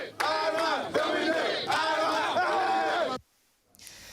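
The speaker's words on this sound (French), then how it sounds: "C'est sous bonne escorte et sous les applaudissements de ses partisans que l'édile de Ouagadougou quitte le palais de la culture Jean-Pierre Gengani." Supporters cheer loudly for the mayor of Ouagadougou as he leaves the Jean-Pierre Guingané Palais de la culture under escort, voices rising in repeated chanting bursts before cutting off abruptly, leaving near silence.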